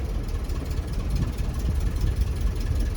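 An old Ford Thunderbird idles high while out of gear, a steady low rumble that stays even and fairly loud from start to finish, with no voices over it.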